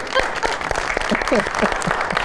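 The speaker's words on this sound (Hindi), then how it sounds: "बहुत सारी तालियां जी" A TV talk show studio audience claps, a busy, fairly loud patter of hands running through the short stretch, with voices talking over it.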